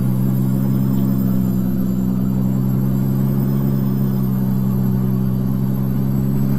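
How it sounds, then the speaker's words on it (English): A Peterbilt 389 truck engine in a truck-driving video game gives a steady, loud, low rumble that drones evenly and without a break throughout. "I like the sound of this truck."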